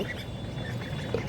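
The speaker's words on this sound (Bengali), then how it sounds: "হৃদয় ছাদে হাঁস পালে" A brief burst of quacking from native Bangladeshi domestic ducks kept on a rooftop, a few nasal calls against a steady background.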